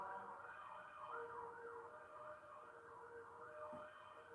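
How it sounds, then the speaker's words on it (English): An ambulance siren wails in repeating rising and falling sweeps, faint and distant, heard steadily without talk. "There's an ambulance going on."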